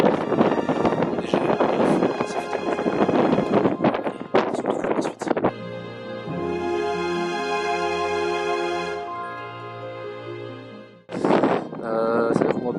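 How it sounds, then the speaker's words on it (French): Strong wind on a snowy mountainside in the Pilat rushes and buffets the microphone in loud, steady gusts, easing in the middle before returning hard near the end. "Il y a beaucoup de vent qui se lève parce que là je suis en train de monter"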